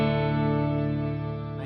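An electric guitar through a Strymon Cloudburst ambient reverb pedal holds a sustained, shimmering chord with a dense wash of reverb, steady and loud before slowly fading.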